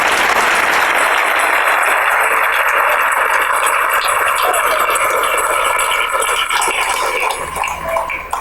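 A church congregation claps together in a long, loud, dense wave of applause that holds steady for several seconds before easing slightly at the end.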